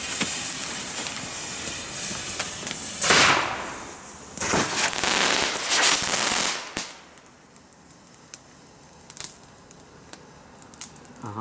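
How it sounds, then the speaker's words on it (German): Two Twisting Diamonds roman candles fired together, with bursts of loud crackling hiss and sharp pops coming in waves, then fading to sporadic distant bangs. "römische Lichter, Twisting Diamonds, viel Spaß dann bei der Zündung, wir schießen sie gleich doppelt"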